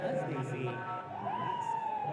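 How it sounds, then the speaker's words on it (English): A siren wails steadily with a rising, sweeping tone at the end of a T20 cricket match, heard over crowd noise and talking. "The siren goes up."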